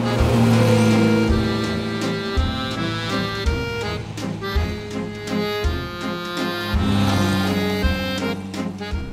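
A Renault Dauphine Ondine drives along a road, its small engine humming steadily and fairly loud from inside the car, with the pitch rising and falling through gear changes and no speech.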